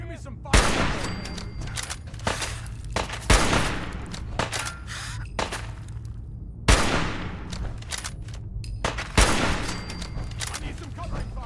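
Fallout 4 combat gunfire, with heavy single blasts at intervals among rapid bursts of shots and a muffled voice underneath throughout.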